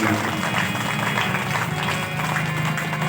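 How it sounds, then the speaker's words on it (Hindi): A large audience at a Ram Katha festival in Delhi claps in a dense, sustained roar of applause that holds steady throughout, with crowd voices blended underneath. "एक बार सरकार के लिए और ताली बजा दीजिए"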